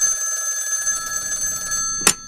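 A telephone rings with a steady, bright electronic tone that holds for about two seconds before cutting off with a click, with no talking.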